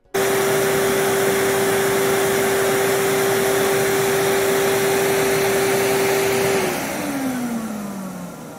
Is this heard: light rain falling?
no